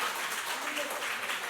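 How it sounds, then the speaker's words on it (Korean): Applause from an audience at a Sunday afternoon church education seminar, a steady dense wash of clapping filling the room without pause. "박수 한번 해주세요."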